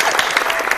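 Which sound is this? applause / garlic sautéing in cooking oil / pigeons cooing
applause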